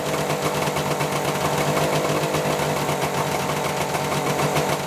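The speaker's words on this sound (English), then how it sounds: "Making some revs will make the 2-stroke oil flow faster through the oil pump." A Suzuki GT750 two-stroke motorcycle engine runs steadily with a buzzy, high-pitched rattle, revving at a constant fast pace for the whole stretch, close and loud.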